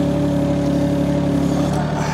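Mini excavator engine idling at low throttle, a steady near drone with even harmonic hum throughout, no voices.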